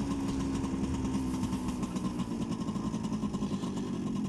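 A Vespa PX125 scooter's small engine hums steadily while riding, with a faint rhythmic putter beneath wind noise, moderately quiet and without speech.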